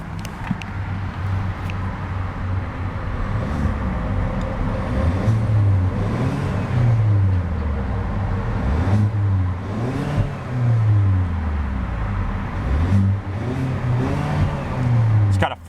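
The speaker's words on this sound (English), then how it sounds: "let's see about a few revs of that turbocharged 4-cylinder power plant" A 2015 Hyundai Sonata Sport 2.0T turbocharged four-cylinder engine revs repeatedly while stationary, pitch climbing and falling in several throaty bursts over a steady idle.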